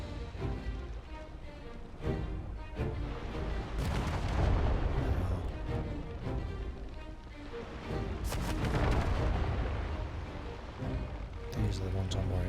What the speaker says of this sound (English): Time for some bombardments.